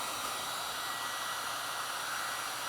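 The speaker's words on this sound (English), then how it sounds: "I will turn on the hairdryer." A hair dryer blows continuously, a loud, even whooshing hiss with a steady motor hum and no pauses.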